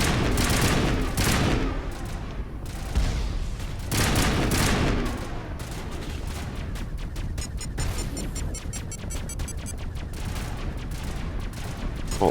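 Heavy sustained gunfire in the video game Mass Effect, with dense fusillades, bursts and booms rolling on loudly without a break for the whole stretch, later turning into a rapid, evenly spaced automatic rattle.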